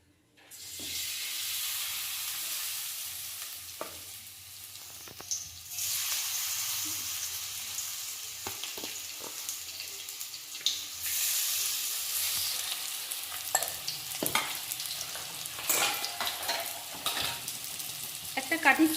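White oil sizzles and fries in a wok for a Chinese cabbage dish, a steady bright hiss broken by repeated scraping and stirring clatters that grow busier toward the end, with no talk.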